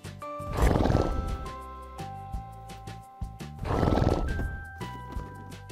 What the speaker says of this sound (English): The horse says neigh, neigh.